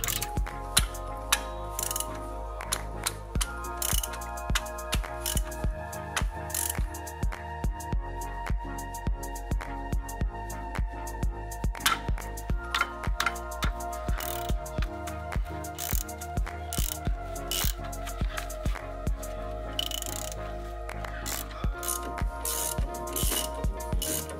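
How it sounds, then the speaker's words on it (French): A ratchet with a Torx T55 bit loosening the front brake caliper bracket screws on a Citroën C2, a rapid, steady, close clicking of the pawl that runs on and off for a long stretch with brief pauses, no talk. "Retirez les vis retenant la chape à l'aide d'un Torx T55"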